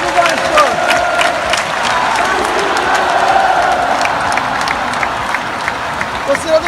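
Vasco football fans fill Maracanã stadium with a steady roar, scattered clapping and cheers, while a nearby voice talks over the crowd.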